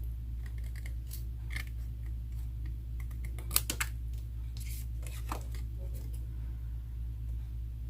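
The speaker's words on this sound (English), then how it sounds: "Just go ahead and cut strips, a couple of strips." Scissors snip through fabric scraps to cut strips, giving a series of short, crisp cuts at irregular intervals, close up, over a steady low hum.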